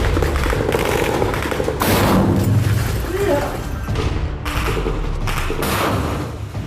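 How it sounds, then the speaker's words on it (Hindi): RPG rockets fired from a ruined rooftop at two tanks, heard as dense, loud combat noise of gunfire and heavy thuds that runs steadily throughout under a voice talking. "खंडहर की छत से इन दोनों टैंकों पर आरपीजी रॉकेट दाग दिए जाते हैं, जिसमें जोरदार ब्लास्ट होता है"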